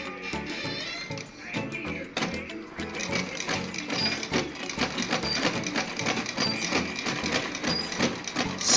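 A sewing machine stitches gathered net ruffles onto a dress, a soft rapid mechanical patter that starts in short bursts and then runs continuously at low volume.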